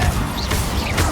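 Incendio fire spell cast in Hogwarts Legacy, a dense loud burst of whooshing crackle and impact filling the whole moment with no pause.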